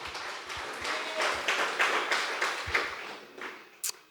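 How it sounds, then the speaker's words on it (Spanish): A church congregation claps together in a loose, fairly steady rhythm of sharp, close hand claps lasting a few seconds, ending with a single stray tap. "Ta fuerte aplausos al Señor."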